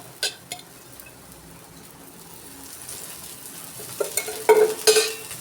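Coriander thalipeeth frying in oil on a pan, a soft steady sizzle under occasional sharp scrapes and clicks of a spatula as it is turned, louder near the end.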